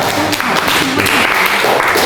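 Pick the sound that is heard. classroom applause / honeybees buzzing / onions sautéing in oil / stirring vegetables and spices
classroom applause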